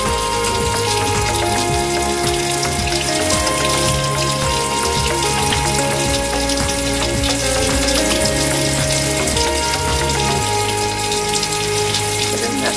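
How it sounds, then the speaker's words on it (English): Running tap water flows steadily while a face is scrubbed with a bead facial scrub, a constant close splashing wash with soft music underneath. "And start scrubbing."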